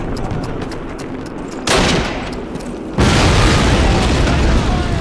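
Call of Duty grenade explosion and gunfire: a sudden loud blast rips in, fades, then a second heavy burst of roaring detonation and shooting keeps going to the end over a low rumbling background.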